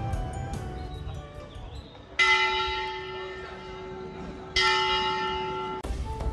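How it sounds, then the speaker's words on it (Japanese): A bell rings at a keirin track to signal one and a half laps to go, with clear metallic strikes ringing out and decaying, the loudest two coming a couple of seconds apart over faint background noise. "間もなく残り1周半の鐘が鳴る。"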